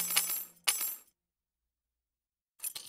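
Keys handed over in the point-and-click adventure Full Throttle Remastered: two quick metallic jingles close together, then a pause of silence before a third brief clink, crisp and near.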